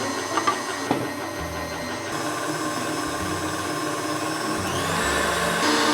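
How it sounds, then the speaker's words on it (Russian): An electric mixer running at low speed beats cake batter with melted chocolate, giving a steady, continuous motor whir with a few light clicks at the start, close and even throughout. "Включаем миксер на малую скорость."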